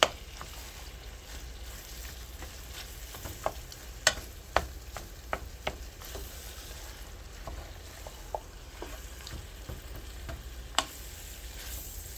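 Ground beef browns in a pan for keto cabbage soup, giving a low steady sizzle with scattered sharp clicks and taps from stirring, heard close and quiet with no talking.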